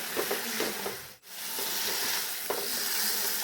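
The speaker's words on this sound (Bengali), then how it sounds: "এবার ভেজে রাখা আলুগুলো দিয়ে দিচ্ছি ভালো করে একটু এপিট এপিট নাড়াচাড়া করে নিচ্ছি" Fried potatoes get stirred into masala in a pan for aloo dum, a steady hissing sizzle with soft scraping strokes of a spatula, briefly interrupted by a short gap before resuming.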